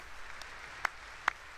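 Faint, distant applause forms a steady wash of clapping during the State of the Union address, with two sharp nearby claps standing out briefly.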